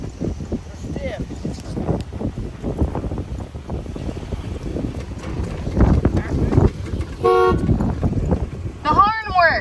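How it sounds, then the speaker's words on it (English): The horn of an old camper truck blares in two short honks near the end, over rough wind and handling noise close to the microphone. "The horn works."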